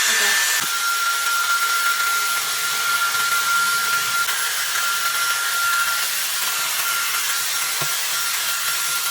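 A Dyson Airstrait hair straightener blows a steady, loud rush of air onto hair roots, a continuous even whoosh with a faint tonal whine and an occasional light bump, no one speaking.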